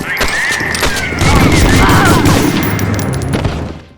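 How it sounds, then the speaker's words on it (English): Rapid BAR rifle fire in the World War II shooter Medal of Honor Frontline on PS2, a dense loud burst of repeated shots with booming impacts running for several seconds before fading. "the BAR, on the other hand, just has an amazing sound and feel to it."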